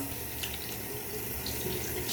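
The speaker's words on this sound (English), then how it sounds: "I'm gonna wash my hands." A bathroom tap runs steadily into a sink during handwashing, a continuous close splashing rush with small fluctuations as hands move under the stream, with no talking.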